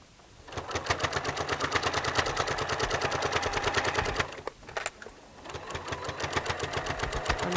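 Sewing machine stitching through layers of a pillowcase, a fast, even mechanical chatter of needle strokes that runs steadily, pauses briefly, then resumes at the same close, moderate level.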